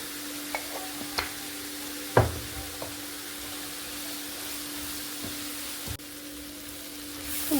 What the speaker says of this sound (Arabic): ونبقاو نحركو حتى تبان لينا هاد الخضره صافي